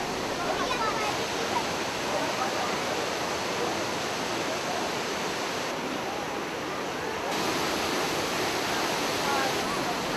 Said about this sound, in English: Soon we're going to see one of the most beautiful sights in п.Саблино, the Тосненского waterfalls.